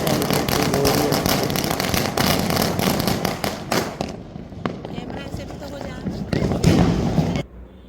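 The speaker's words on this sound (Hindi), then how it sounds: "हमारी छत पे फिर से पटाखे छूट रहे हैं।" Diwali firecrackers on a rooftop crackle and pop in rapid bursts nearby, loud and dense at first, then in sparser bangs, with voices talking underneath.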